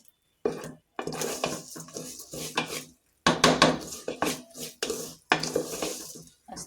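Rice being fried and stirred in a pot for white pulao, with repeated scraping and clinking of a spoon against the pot in uneven bursts and a faint sizzle between strokes.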